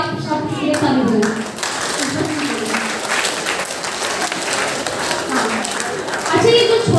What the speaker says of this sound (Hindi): आप सब इसके लिए ताली बजाएं